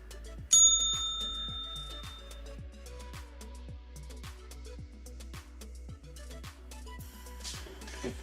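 A bright bicycle-style bell rings once with a clear, lingering ding, followed by soft, regularly repeating ticking clicks that continue steadily over a low hum.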